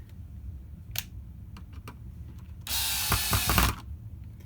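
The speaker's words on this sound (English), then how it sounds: "then you can put the screws back in" Screws going back into an AlphaSmart 3000 keyboard during repair: a few scattered close clicks and taps, then a loud, bright whirring rattle for about a second, like a ratcheting screwdriver, with no talking.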